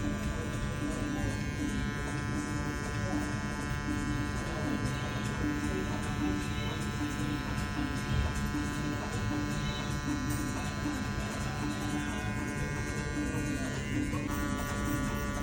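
Electric hair clippers with a number-one guard fully closed cut a burst fade guideline, giving a continuous close, steady buzzing hum under someone talking.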